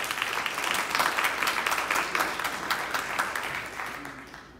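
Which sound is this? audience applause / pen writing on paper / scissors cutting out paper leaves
audience applause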